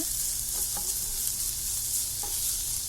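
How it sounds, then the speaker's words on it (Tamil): Tomatoes softening in a hot pan for paneer bhurji give a steady close sizzle, broken by a few faint scrapes of a spoon and no talk. "அதில் தக்காளியும் வதங்கின்னு இருக்கு."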